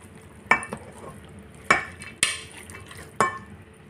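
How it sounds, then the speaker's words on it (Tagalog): A utensil stirs vegetable rice with taro in a pot, giving four sharp scraping knocks at irregular intervals over a faint background. "Then, mix it."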